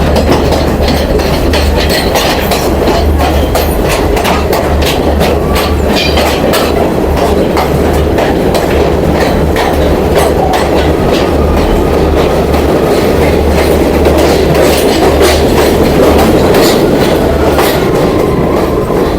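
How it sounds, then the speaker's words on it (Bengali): A loud, continuous train roar with rhythmic clickety-clack of wheels, echoing and dense as the train passes through a tunnel near Pattipola station in Sri Lanka. "এত শব্দ, টানেল পার হচ্ছে একটা।"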